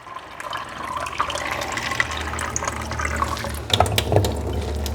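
Water from a Kangen ionizer machine, set to the 9.5 pH position, pours steadily into a drinking glass, a continuous close hiss and gurgle with a few brighter splashes near the end.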